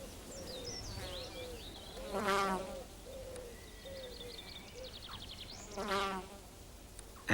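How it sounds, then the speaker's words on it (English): Bees in a garden of flower beds and privet hedges, faint buzzing wings under repeated birdsong, with two louder passes drifting close and away. "haunted by the most industrious bees in the business"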